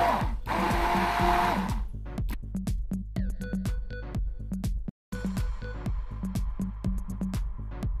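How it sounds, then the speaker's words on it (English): A stick blender whirs through a batch of homemade goat milk lotion in repeated short bursts and pulses, loud and close, with a brief dropout midway before the motor resumes. "I would use my stick blender to blend everything in"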